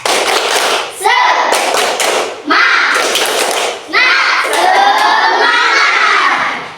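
Schoolchildren in an Indonesian classroom loudly chanting the tepuk semangat clapping routine, rhythmic hand claps mixed with energetic shouted chanting in unison, close and lively.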